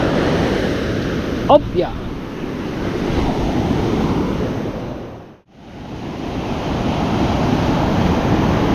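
Big ocean waves roll onto the shore at Bukana beach, a loud continuous surf wash buffeted by wind, with one brief spoken word and a short dropout midway.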